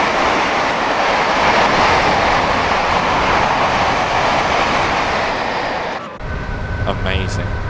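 A Class 86 electric locomotive-hauled train passes on the opposite track, giving a loud, steady rushing roar of wheels and air that fills most of the span, then cuts off abruptly as it clears, leaving quieter running noise with faint tones.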